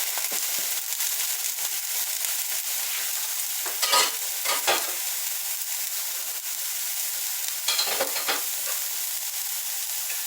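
Rehydrated freeze-dried burger meat and sausage frying in a pan, a loud, constant crackling sizzle close up, with a few bursts of stirring and shifting around four and eight seconds, no voices.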